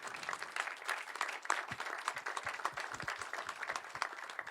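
An audience at a sports and entertainment innovation conference claps for the finalists, a steady, fairly distant patter of many hands lasting several seconds.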